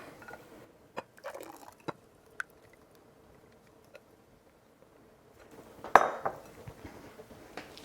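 Quiet kitchen scraping and clinking of a utensil against the bottom of a pot of currant juice for jam, a few sparse scrapes and taps followed by a brief louder liquid slosh and clatter near the end.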